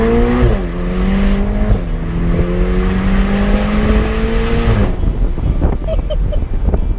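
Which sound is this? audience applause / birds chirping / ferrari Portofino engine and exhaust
ferrari Portofino engine and exhaust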